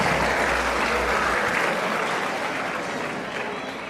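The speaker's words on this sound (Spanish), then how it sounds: "Démosle un fuerte aplauso para este hermano que viene a compartir con nosotros" Loud, dense applause from a Catholic church congregation welcoming an evangelical pastor, sustained then slowly tapering off, with a hint of voices beneath.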